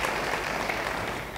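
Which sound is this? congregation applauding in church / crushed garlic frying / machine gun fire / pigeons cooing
congregation applauding in church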